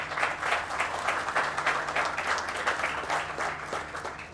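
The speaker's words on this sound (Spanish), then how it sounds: "Bueno, un aplauso" A modest audience claps after a talk on crop productivity in semi-arid soils, a short round of applause with rhythmic, pulsing hand claps from a smallish room, moderately loud for about four seconds.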